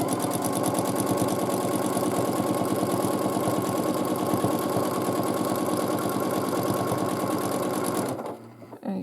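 A long-arm quilting machine stitches a custom quilt border, giving a steady, rapid mechanical hum with fast rhythmic needle pulses that runs close and loud for several seconds, then abruptly stops.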